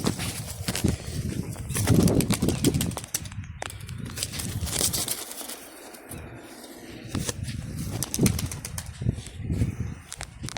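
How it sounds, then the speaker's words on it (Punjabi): A flock of pigeons, including young birds, is released and takes off with loud bursts of flapping wings that come and go over several seconds, mixed with rustling and a few faint coos, with no talking. "ਛੱਡਤੇ ਜੀ ਆਪਾਂ ਕਬੂਤਰ ਸਾਰੇ"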